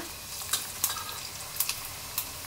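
Cumin seeds sizzle steadily in hot oil, a close continuous frying crackle broken by a few sharp pops and stirring clicks.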